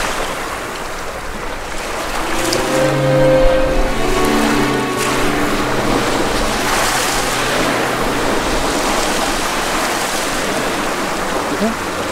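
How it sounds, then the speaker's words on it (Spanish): Sea waves on the coast at Manicuare wash in a continuous broad rush, with soft tonal murmurs briefly audible beneath the surf early on. "Mira el mar un momento, que estoy grabando."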